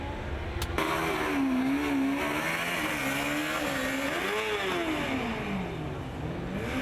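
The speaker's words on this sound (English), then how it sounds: "I believe to hear the engine running" A Formula Student race car engine runs in the 2016 Formula Student Germany endurance event, a loud steady drone with rising and falling pitch as the revs swing, continuous throughout with no talk.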